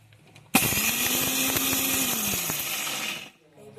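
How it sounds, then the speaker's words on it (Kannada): A small mixer grinder jar whirs, grinding sugar and roasted gram for instant halkova: an abrupt, loud, high-pitched motor roar runs about three seconds at constant speed, then cuts off and winds down. "ಚಿಕ್ಕ ಮಿಕ್ಸಿ ಜಾರ್ ತೊಗೊಂಡಿದ್ದೀನಿ ನೀವು ದೊಡ್ಡ ಮಿಕ್ಸಿ ಜಾರ್ ಅದ ಒಂದೇ ಟೈಮೇ ಹಾಕ್ಕೊಬೋದು ಈಗ ಮಿಕ್ಸಿ ಮಾಡಿಕೊಂಡು"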